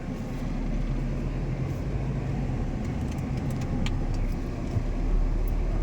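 A car rolls along at low speed and eases to a stop on the left near the Rani Padmini palace in Chittorgarh fort, its steady engine and road rumble continuous throughout with faint rattles over the top.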